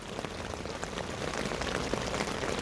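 Steady rain falls continuously outdoors, a dense, even patter of drops on a surface with scattered louder plinks, close and uninterrupted with no voices.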